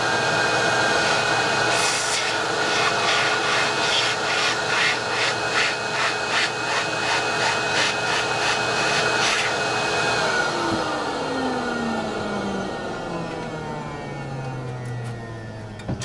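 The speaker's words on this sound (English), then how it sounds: "I'm going to give it a quick vacuum so I can get the contact off of it." A vacuum cleaner works on part of an HP LaserJet 1012/1018/3050 Q2612A 12A toner cartridge, giving a loud steady whine with rhythmic rubbing strokes that winds down in pitch near the end, with no talking.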